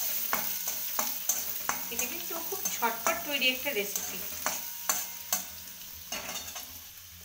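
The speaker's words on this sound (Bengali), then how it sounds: "তেলটা গরম হয়ে গেছে, এবার আমি গাজরগুলো আস্তে আস্তে দিয়ে দিলাম" Thinly sliced carrots sizzle in hot oil in a pan and are stirred with repeated scraping strokes, steady and close, while someone talks over the cooking.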